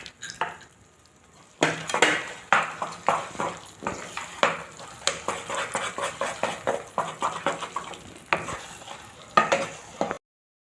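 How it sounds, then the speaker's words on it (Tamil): Thick coconut thirattipal sweet is stirred in a pan, producing rhythmic scraping strokes about twice a second over a soft sizzle, close and fairly loud, stopping abruptly at the end. "நல்லா ஒட்டாமல் வர வரைக்கும் கிண்டிட்டு"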